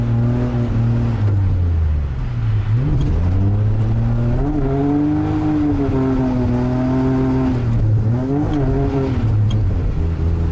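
Drift car accelerating on an icy competition track, a loud close engine drone rising and falling in pitch as the throttle is worked, steady and unbroken with no talking.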